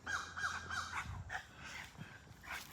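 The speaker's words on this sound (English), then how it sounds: "where's that crow?" A crow caws several times in a row outdoors on stormy Cape Cod, the calls clear and moderately close against a steady background hum.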